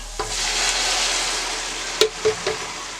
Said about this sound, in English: we're going to go ahead and add my full 29 ounces of tomato sauce